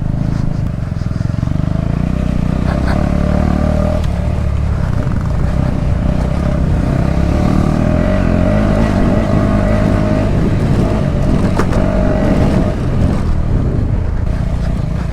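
Motorcycle engines droning continuously on an off-road trail near a secret lake outside Hyderabad, a loud, steady rumble that barely changes level throughout, heard from the rider's position with some wind.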